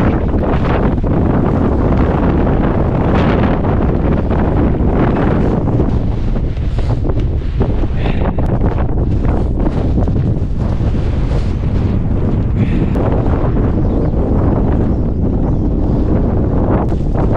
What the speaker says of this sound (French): J'ai jamais vu autant de vent que là-haut.